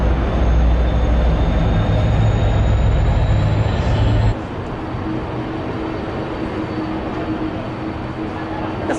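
Loud rumbling train noise in Israel with a steady high whine, dropping abruptly halfway to a quieter, steady rolling hum; no talking.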